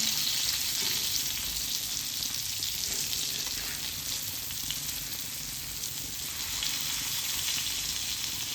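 Pomfret fish frying in a pan over a low gas flame, a steady close sizzle and crackle running unbroken throughout with no voices.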